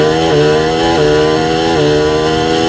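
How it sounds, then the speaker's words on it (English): A Pro Stock drag racing motorcycle engine screams at launch at an NHRA event at Pacific Raceways, a loud close harsh buzzing roar with brief pitch dips as it shifts. "let's get another listen to everything that was going on the launch for Angie"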